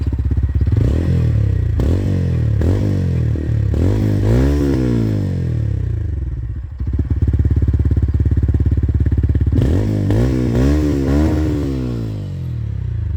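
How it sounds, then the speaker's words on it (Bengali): TVS Ronin 225 motorcycle with about 10,000 km on it, exhaust silencer close and loud, blipped in repeated rising revs that fall back to a throbbing idle, then revved again. "তবে আমি সাইলেন্সারের আওয়াজটা একটু শোনাবার চেষ্টা করি"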